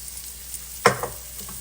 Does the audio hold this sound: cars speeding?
no